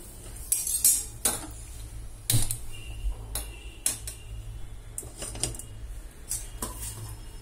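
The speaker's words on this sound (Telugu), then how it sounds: "బాండి పెట్టుకుందాం." A kitchen pan, a bandi, is set down and handled, giving scattered light metallic clinks and knocks, a few sharper, at close range with no voices.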